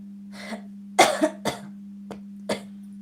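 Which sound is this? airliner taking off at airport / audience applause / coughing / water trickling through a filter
coughing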